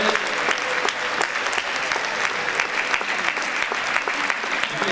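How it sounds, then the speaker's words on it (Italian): Warm applause from an audience at a martial arts gala, honoring a master after his demonstration on the tatami; steady clapping from many hands fills the hall without pause. "Un applauso per questo grande maestro"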